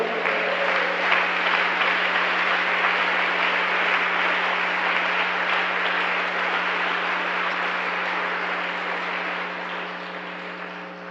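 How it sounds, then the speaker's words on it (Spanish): A church congregation applauds together in sustained, even clapping that fills the room and slowly fades, with a steady electrical hum underneath. "Da un aplauso al Señor"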